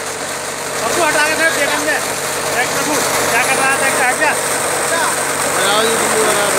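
A Sonalika tractor engine runs nearby with a loud, steady mechanical drone and rattle while people talk over it.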